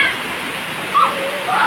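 Floodwater rushes during heavy rain, a steady broad hiss of flowing water, fairly loud and close, with a brief voice cutting in partway through.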